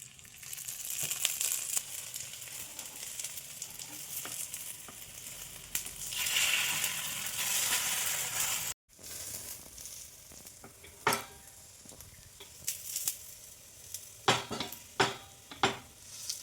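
Paratha fries in oil on a pan, a continuous soft sizzle with a louder hissing surge midway, then a series of sharp scraping and tapping clicks from a utensil toward the end.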